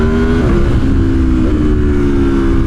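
An Aprilia Tuono 1100 Factory motorcycle engine roars loud and close, holding a steady throbbing note with small rises and dips in revs.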